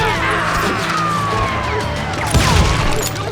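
Gunfire rattles through a loud Call of Juarez: Gunslinger battle, dense and continuous with shots and crashes piling over each other, a heavier burst near the end.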